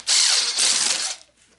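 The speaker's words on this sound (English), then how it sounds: "This nice Hilti drill. You take your corrugated pipe and you drill holes." A Hilti drill boring a hole in corrugated drainage pipe, one short loud whirring burst of about a second that cuts off abruptly, close and alone.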